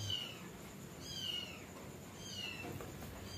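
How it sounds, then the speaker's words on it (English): Stray cats and kittens next door meow repeatedly in faint, thin cries from a short distance, in a quiet outdoor setting with steady background ambience. "somebody's feeding the stray cats, and that cat had kittens"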